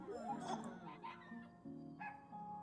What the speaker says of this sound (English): We get some small dogs.